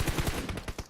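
Automatic gunfire during a PUBG Mobile esports league match, a short burst of rapid shots, loud and close.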